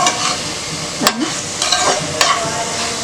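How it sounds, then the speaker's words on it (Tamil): Ground masala paste for chicken curry sautéing in a pan, a steady close sizzle broken by a couple of brief spoon scrapes and stirs. "இது நல்லா வதங்கட்டும்."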